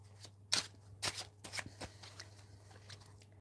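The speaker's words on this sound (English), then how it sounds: "We're going to put those back and continue to shuffle them" Tarot cards being shuffled by hand, a run of crisp riffling bursts and soft flicks, close and fairly quiet, with no talking.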